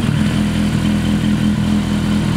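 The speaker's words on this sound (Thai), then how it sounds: "เดินเบานะครับเสียงนุ่มๆนะฮะไม่หนกเกินไปนะครับ" A Kawasaki Z800 motorcycle idles steadily close by, its engine and exhaust giving a smooth, even low burble that holds constant without any revving.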